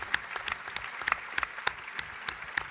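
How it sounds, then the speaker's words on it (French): Audience applause in a conference hall after workshop reports, a moderately quiet run of distinct individual claps with an uneven rhythm, some hands standing out closer than the rest. "Je crois qu'on peut vraiment applaudir à nouveau les 5 rapporteurs pour le travail fait."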